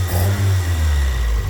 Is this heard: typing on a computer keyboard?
no